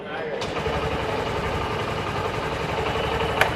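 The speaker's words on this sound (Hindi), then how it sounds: "मैं बाइक स्टार्ट कर रहा हूं।" A 125cc Honda motorcycle with a silent-start system turns over quietly and idles with a low, even hum, while a voice talks over it and a faint click sounds near the end.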